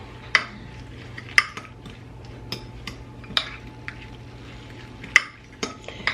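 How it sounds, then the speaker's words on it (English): A spoon stirs a mustard and brown sugar mixture in a bowl, making repeated clear clinks and taps against the dish at an irregular pace, close and fairly quiet. "I'm gonna stir this up."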